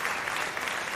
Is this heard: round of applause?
yes